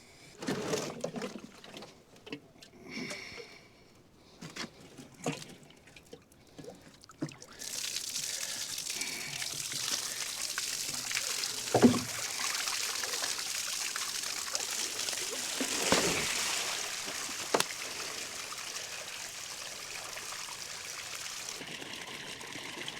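Water trickles and pours out of a tipped-over pig water trough holding a big chunk of ice outdoors after a cold snap, a steady splashing flow lasting most of the clip after some earlier scraping and handling noises.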